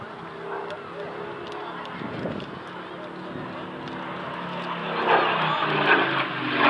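A Supermarine Spitfire's large 35-litre V12 engine growls steadily overhead, building louder toward the end, with someone talking over the droning roar.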